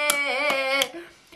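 A person claps three times, close and crisp, with a sustained sung or hummed voice running under the claps before it trails off.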